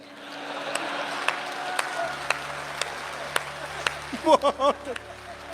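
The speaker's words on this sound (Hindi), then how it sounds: "ताली बजा रहे हैं" A few members of an audience clap sparsely, with scattered single claps over a quiet hall, joined toward the end by a short burst of voice.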